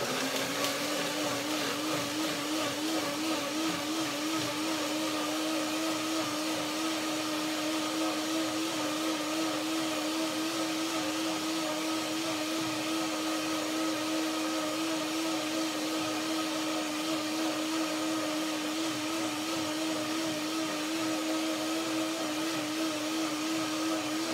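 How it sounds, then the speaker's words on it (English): A blender purees juicy bananas with a small amount of water, a loud, steady motor whine that runs close and continuously for over twenty seconds with no talk. "Second blender dance."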